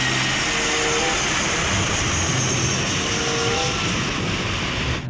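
A toy Stirling airplane is flown, its engine giving a steady, loud, whooshing drone like a jet, constant for about five seconds before cutting off abruptly at the end.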